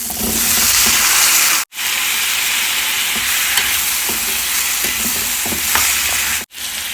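Sliced green beans and two peeled potatoes fry loudly in a pan, a dense, continuous sizzle and hiss with faint stirring taps, close and steady throughout.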